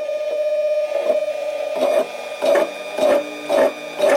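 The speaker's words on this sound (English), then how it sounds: "I'm going to go ahead and take a cut of about barely touching there." A 7x10 Harbor Freight mini lathe takes a light cut on a 304 stainless steel bolt: a steady motor whine carries rhythmic bursts of cutting noise about every half second, loud and close, with no talking.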